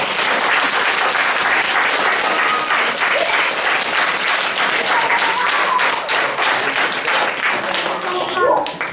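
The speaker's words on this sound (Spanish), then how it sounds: "Y un aplauso muy fuerte de todos." A large audience applauds loudly and steadily for the whole stretch at a grandparents' school event, with scattered voices and a brief whistle mixed into the dense clapping.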